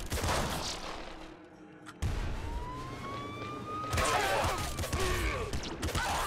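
Nuke launcher firing in the Nuclear Throne video game: a burst of game sound effects with rising, sweeping tones and a dense blast that swells loud toward the end, with no talking.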